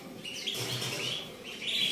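Small caged birds offered for sale chirp and tweet continuously in a busy, overlapping chorus, fairly loud and close, with no talking.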